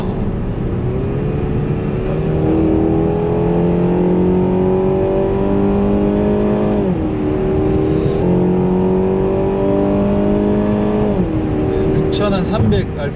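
A Renault Samsung SM6 engine revving hard while accelerating in manual mode, rising in pitch through the gears with two distinct upshifts around 6300 rpm, loud and steady from inside the car.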